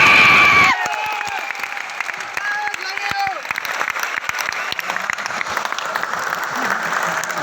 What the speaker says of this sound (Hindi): अगर आप मुझसे प्यार करते हैं तो तालियां जोरदार होनी चाहिए आज